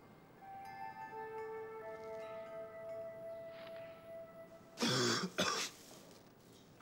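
A couple of harsh coughs or throat-clearing bursts, close and fairly loud, over a quiet background with faint steady tones.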